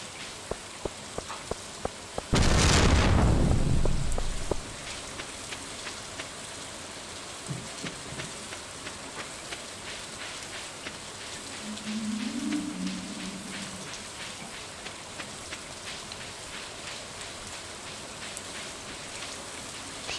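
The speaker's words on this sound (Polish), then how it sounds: "dobrze, że jest deszczowy dzień" Steady rain falls in the farming game Stardew Valley, a constant hiss of droplets throughout, with a brief louder whoosh early on and a faint soft tone later.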